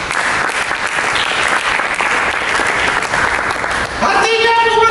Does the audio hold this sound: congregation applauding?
yes